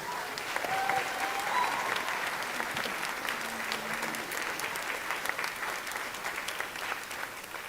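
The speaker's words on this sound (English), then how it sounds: "Let's give them a big round of applause, please." An audience at a high school spring band concert gives a round of applause, with thick clapping swelling early, then gradually thinning and fading toward the end.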